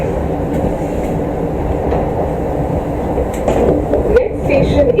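Vande Bharat express train running on rails between New Jalpaiguri and Howrah, heard from inside: a loud, steady rumble of wheels and carriage that holds for the whole stretch and swells slightly near the end.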